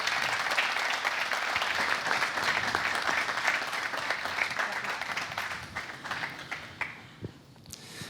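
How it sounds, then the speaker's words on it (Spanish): An audience at a cycling race presentation applauds the race's general director, with loud, sustained clapping that thins out into scattered individual claps before fading near the end. "Un aplaudiment per a Ángel."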